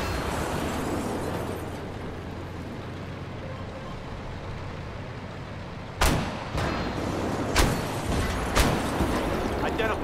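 Tank guns fire in the Armored Warfare video game: three or four sharp, loud blasts come in quick succession in the latter half, after a stretch of steady engine and battle rumble.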